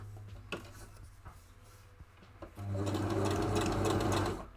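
A sewing machine stitching a hat, first a few slow single stitches and clicks, then a steady close whirring run of stitching for about two seconds before it stops.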